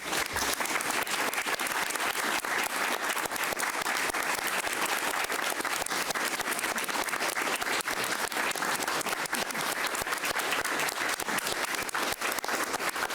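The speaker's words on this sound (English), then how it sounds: "I'd like to offer an applause for you and your group" An audience at a city council meeting applauds, dense sustained clapping from many hands at a steady level for the whole stretch, with no voices over it.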